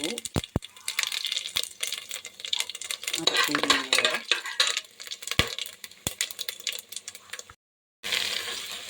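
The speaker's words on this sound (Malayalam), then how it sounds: "അതിലേക്ക് ഇഞ്ചി വെളുത്തുള്ളി ഇട്ട് അത് നല്ല മൂക്കുന്നവരെ ഇളക്കി കൊടുക്കുക" A spoon scrapes and taps inside a pressure cooker while ginger and garlic fry in hot oil, with close metallic clinks and a soft sizzle under a voice talking throughout.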